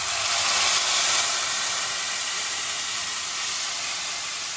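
Three medium tomatoes pureed in a mixer hit a hot pan for Shahi Paneer, giving a loud, steady sizzling hiss that slowly eases, no speech over it.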